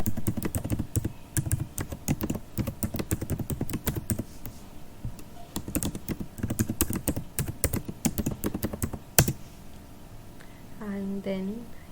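A username and password are typed on a computer keyboard in rapid, irregular bursts of close key clicks, with a brief pause and a louder single tap near the end, and faint background sound.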